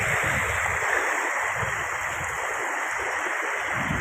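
Flood water from the Ojat and Madhuvanti rivers pours over a village road in the Ghed area, a dense continuous rushing roar with no pauses, loud and close throughout.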